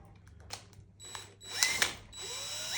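Electric drill driving a homemade bobbin winder fitted with flexi hose, whirring in short uneven bursts that rise and fall in pitch, with mechanical rattling and clicks close by.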